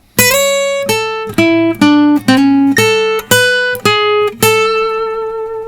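A guitar plays a quick melodic lead phrase of about eight plucked notes, bright and ringing, with steady rhythm and no voices.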